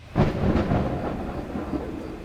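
Thunder rolls through a horror video game, a loud rumbling crack that swells and then trails off into a low, sustained storm rumble.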